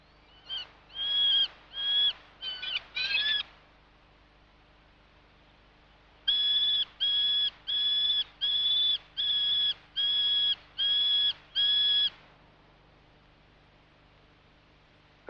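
Two bouts of owl calls, a short irregular cluster followed by a steady run of about eight evenly spaced, clear hooting notes, moderately loud against quiet wild surroundings while the parent birds hunt for their young.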